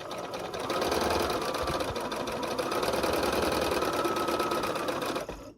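A sewing machine stitches seams on a Southwest Snowball quilt in a fast, steady, close-up chatter that runs for about five seconds before stopping.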